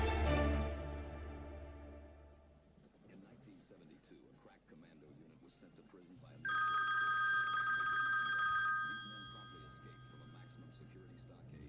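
A telephone rings in a domestic drama scene, a steady electronic ringing tone that starts partway through and holds for a couple of seconds at moderate volume, with low background sound before it.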